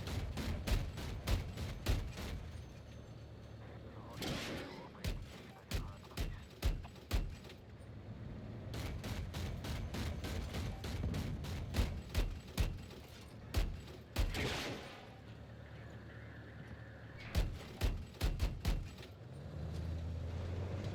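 Grenade launcher firing in a shooter video game, a series of sharp, loud, close bursts in irregular clusters of shots and explosions, with brief pauses between volleys.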